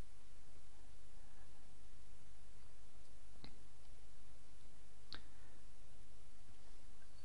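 A computer mouse is clicked while a LinkedIn profile is set up: two short, crisp clicks about two seconds apart over a steady background hiss.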